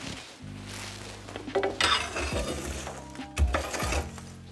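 Embers pushed aside in a wood-fired oven with a metal tool produce close scraping, grinding and clanking strokes over a steady low hum, with a few louder knocks along the way.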